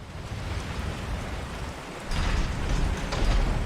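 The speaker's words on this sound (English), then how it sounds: "the sounds of the rain in both the environment, but then also landing on Leon's shoulders here, are all audible, and it's very, very convincing" Steady rain falling in a Resident Evil 4 game scene, a dense hiss of drops on the surroundings with closer patter landing on a character's shoulders, swelling slightly louder toward the end.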